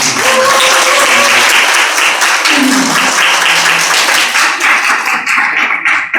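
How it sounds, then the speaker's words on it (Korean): Church congregation applauding during an anniversary worship service, with dense, loud clapping from many people that holds steady and then thins slightly toward the end. "우리 장로님 권사님들만 일어나 주세요. 우리 감사의 박수를 좀"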